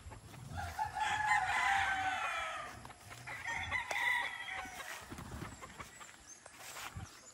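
Gamefowl roosters, a Sweater and a Boston Roundhead about six months old, crow loudly nearby in two long calls, with faint clucking and outdoor noise beneath.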